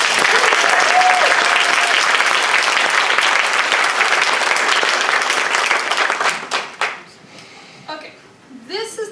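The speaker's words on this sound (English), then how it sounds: "Give him another round of applause." Loud, dense clapping from a Sunday assembly audience carries on for about six seconds, then quickly fades as a single voice starts talking over the last scattered claps.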